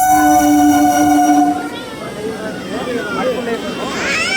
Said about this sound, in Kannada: ಟ್ರೈನ್ ಇವಾಗ ಬರ್ತಿದೆ